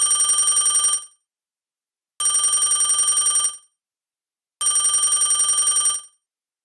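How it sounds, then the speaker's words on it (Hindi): A telephone rings in a home kitchen while dinner is cooked, sounding three long bursts of loud, bright electronic trilling separated by silent pauses of about a second. "उसका फोन बजा"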